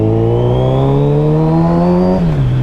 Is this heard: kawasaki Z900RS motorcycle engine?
yes